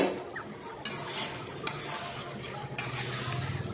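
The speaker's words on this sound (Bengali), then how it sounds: "এরপর আমি ঢাকা দিয়ে দিয়ে ভালো করে কষিয়ে নেব।" Chicken liver curry sautés in a pan with a soft steady sizzle, punctuated by three sharp scraping clacks of a spatula stirring against the metal.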